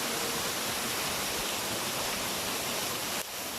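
A waterfall inside a tea estate roars as a dense, steady rush of falling water, loud and close, with no voices.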